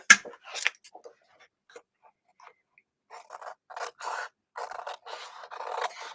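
Big scissors trim a white strip of card off a handmade gnome Father's Day card, with a couple of sharp snips followed by a run of close, rustling cutting strokes and no talking.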